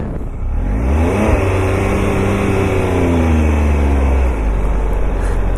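A 2019 Triumph Tiger three-cylinder motorcycle engine revs up close and loud, pitch climbing and falling through a few throttle blips over a steady rumbling idle, with no talking.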